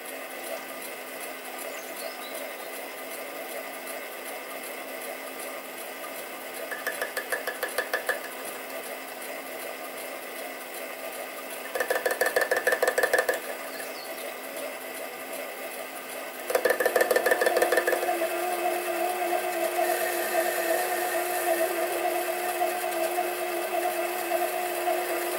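A machine turning at about 400 RPM cuts crankshaft bearings for a Stuart 10V model steam engine, giving a steady mechanical hum with louder cutting bursts near 7 and 12 seconds and a sustained louder stretch from 17 seconds onward.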